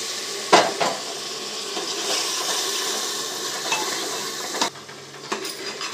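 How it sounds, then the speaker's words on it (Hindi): Spice masala with turmeric, chili and coriander powder fries in a pan with a little water, a steady sizzle broken by a few sharp clanks and scrapes of a spoon stirring against the metal. "थोड़ा सा पानी डालकर हम इसको भून लेंगे।"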